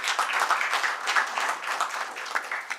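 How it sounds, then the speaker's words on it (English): Brief audience applause at a hotel seminar, a dense, even patter of many hands clapping at moderate volume without voices over it. "Give him a big applause."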